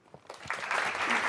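A poetry slam audience breaks into applause: scattered claps at first, then quickly swelling into dense, loud, sustained clapping.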